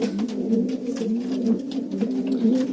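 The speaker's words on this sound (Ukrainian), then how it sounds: "Так, так що голуби вже паруються" Domestic pigeons cooing steadily and close by in a loft during mating, overlapping low throaty coos with no other sounds.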